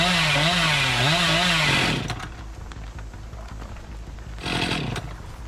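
In a video game, a chainsaw revs loudly with a warbling engine pitch, then cuts off into scattered clicks and thuds before a short burst of noise returns.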